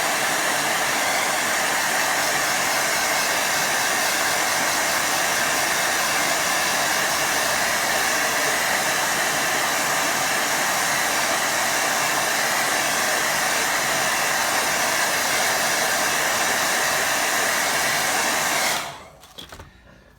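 A hair dryer blows steadily and loudly for about eighteen seconds, drying paint on a cloudy beach painting, then switches off and falls silent.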